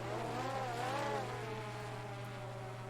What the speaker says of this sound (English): we take off. And we do have quad noise